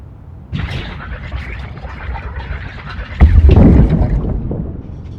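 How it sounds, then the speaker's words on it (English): Inside a submarine in a video game: a low rumbling hull ambience with rushing, wind-like water noise swells up, then a heavier deep surge takes over and slowly fades. "The submarine from inside."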